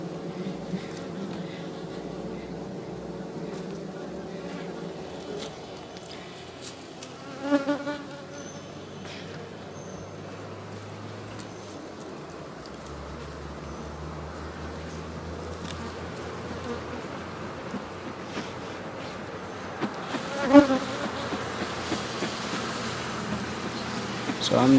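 A steady drone of honey bees buzzing around an aggressive open hive during a beekeeping inspection, continuous and close, with a few louder passes near the microphone and a person talking over it at times.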